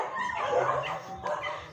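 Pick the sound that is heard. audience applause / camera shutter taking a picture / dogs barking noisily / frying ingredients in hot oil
dogs barking noisily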